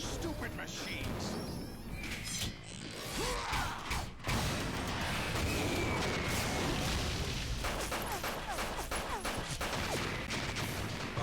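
Bursts of P90 submachine gun fire in Metal Gear Solid 2: Sons of Liberty, loud and continuous over dense mechanical clatter and explosive crashes, with game voices partly mixed in.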